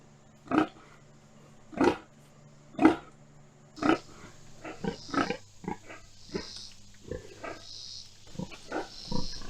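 Pigs on a pasture farm grunt and squeal up close, first a few loud, evenly spaced calls, then a busier jumble of shorter grunts and snorts from several animals.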